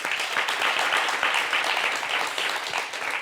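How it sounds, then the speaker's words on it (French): A studio audience at a fashion talk show applauds a stylist, a sustained, moderate round of clapping with individual claps audible in the dense wash. "Applaudissez pour lui."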